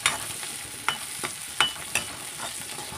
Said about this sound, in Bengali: পেঁয়াজগুলো ব্রাউন কালার হওয়া পর্যন্ত আমি অপেক্ষা করব এবং আস্তে আস্তে নাড়াচাড়া করে ব্রাউন কালার করে নেব